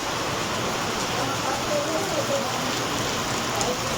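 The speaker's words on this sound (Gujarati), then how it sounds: "વરસાદ શરૂ છે અને વરસાદની આપણે મોજ માણી રહ્યા છીએ" Steady rain pours near a cave at the hillside Kamlai Mata temple above Palitana, a dense even hiss throughout with a faint voice briefly under it.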